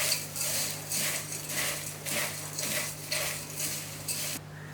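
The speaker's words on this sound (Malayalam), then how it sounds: "നന്നായിട്ട് ഇളക്കി കൊടുക്കുക." Homemade mixture snack being stirred in a pan, with rhythmic scraping and rattling strokes of a spoon through the dry crunchy mix in repeated bursts over a steady low hum, fairly quiet and with no talking.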